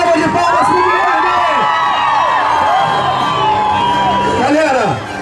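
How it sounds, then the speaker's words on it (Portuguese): A large outdoor crowd cheers, whoops and shouts at the Olympic torch relay in Itararé in 2016, a loud, continuous roar with children's shrieks that cuts off abruptly at the end. "uma salva de palmas para o Guilherme!"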